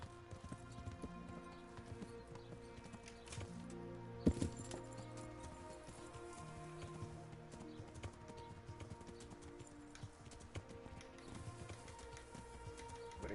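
Horse hooves clip-clop at a steady trot in the medieval video game Kingdom Come: Deliverance, with a rhythmic beat under faint bird calls, background music and an occasional thud, and no talk.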